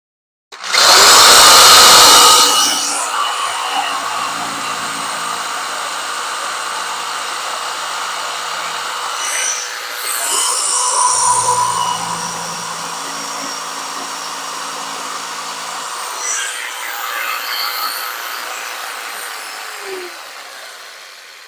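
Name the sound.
sawing off overhanging pieces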